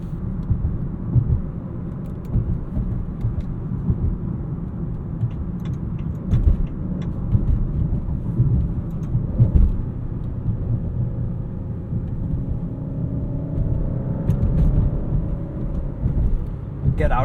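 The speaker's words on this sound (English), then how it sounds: "Let's get this Maserati Grecale back on the road." A 2024 Maserati Grecale Trofeo with a twin-turbo V6 drives in rush-hour traffic, its steady low engine and road rumble running throughout with a faint rising tone near the end, under intermittent talk.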